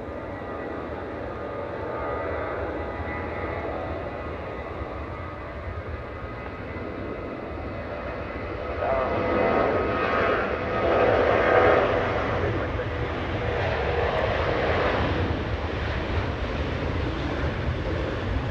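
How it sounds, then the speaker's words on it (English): Alaska Airlines Boeing 737-900 jet departing Anchorage airport for Kodiak, a steady distant engine roar that swells louder partway through and holds as a broad sustained rumble with a faint hiss. "Alaska 169er getting a move on, flying to Kodiak, a 737-900."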